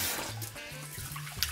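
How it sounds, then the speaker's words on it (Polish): Cold tap water pouring into a pot of dry rice to rinse it, a steady close splashing stream with a slight gurgle, no voices. "Zalewamy ryż do połowy."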